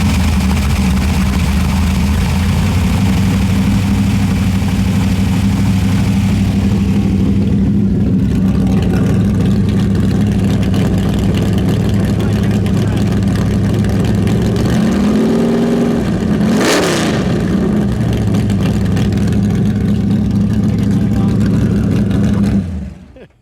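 A 1977 Plymouth Volare Super Stock car's engine idles with a steady, loud, deep rumble, then is blipped into one short sharp rev before settling back to idle.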